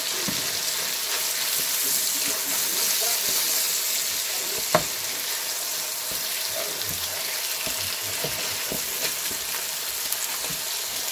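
Ingredients for pasta alla Norma are sautéed in a hot frying pan, giving a steady, close sizzle with scattered small clicks and one sharp tap midway, without speech.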